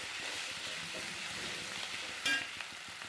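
Garlic, ginger and onion fry in a pan for a pepper chicken roast. The sizzle is steady and soft, broken by a few light stirring taps.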